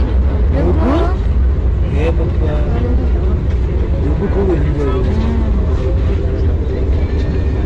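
An Indian Railways train runs at speed with a loud, continuous rumble and rattle heard from inside the carriage, while passengers' voices carry over the noise.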